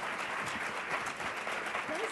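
Audience applause welcoming Wendy Booker onstage at the WILD Summit 2013 closing session, a steady, dense wash of clapping that holds evenly from start to finish.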